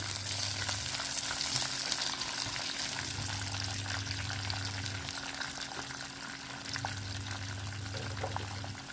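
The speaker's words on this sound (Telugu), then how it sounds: "మిరపకాయలు వేసాను. వేసి ఇది పోపు వేసుకోవాలి." Dried red chillies sizzle and crackle in hot oil as a tempering for an instant South Indian chutney, a steady close frying hiss with a low hum running intermittently underneath and no talking.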